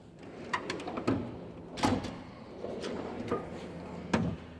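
Metal drawers of a Snap-on KRL series rolling toolbox sliding and clunking several times, with sharp transient knocks spread through the span and faint background noise between them.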